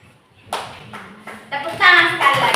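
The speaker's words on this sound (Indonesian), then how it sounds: "Oke, tepuk tangan dulu buat kelompok 3." Classmates in a classroom applaud a student group, starting partway in with scattered claps that swell into fuller clapping, with voices mixed in.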